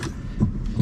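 Car key of an Aston Martin DB9 V12 handled up close, a brief metallic jingle with two small clinks against a low rumbling background.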